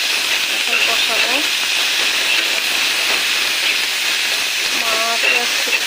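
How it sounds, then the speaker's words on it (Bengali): Fish fries in a pan with ginger and garlic for a curry, producing a loud, steady, close sizzling hiss throughout, with faint brief vocal sounds underneath. "মাছ করতেছে, এটার আওয়াজে বিরক্ত লাগতেছে।"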